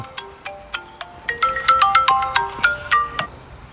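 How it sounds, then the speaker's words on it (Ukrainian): A bright electronic phone ringtone plays a quick, repeating melodic pattern of short tones, close and clear with no voices, inside a 2022 Kia e-Niro electric car. "хтось телефонує"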